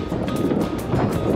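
Wind gusting across a sailing boat at sea, a steady roaring rush with faint buffeting against the microphone, close and continuous without talk.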